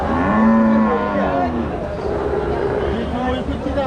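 Cattle at a busy rural cattle market in Kushulia, Kaliganj, Satkhira low nearby moos, one long call then shorter ones, over crowd murmur and someone talking.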